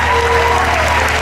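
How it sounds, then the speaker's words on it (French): Audience applause at a gospel concert, loud and dense continuous clapping with a sustained tone and crowd noise underneath. "Sous vos applaudissements, mesdames."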